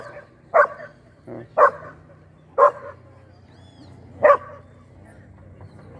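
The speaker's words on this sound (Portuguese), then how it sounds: "O que foi que você tá latindo?" A dog barks in four sharp, separate yaps by water, fairly close, with someone speaking Portuguese between the barks over faint outdoor background.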